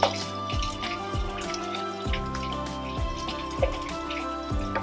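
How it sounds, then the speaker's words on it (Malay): Water from a jug is poured into a pot while beef rendang cooks, making close splashing and gurgling sounds. Repeated bubbly drops break over a steady wash of running water. "Okay, lepas tu letak air."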